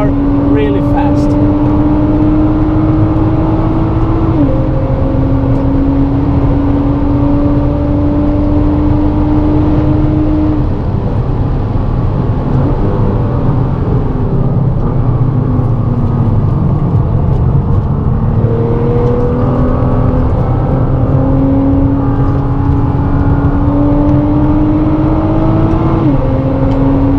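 A Nissan GT-R's engine drones steadily on a race track, its exhaust pitch rising and dropping through gear changes as it accelerates hard, loud and continuous.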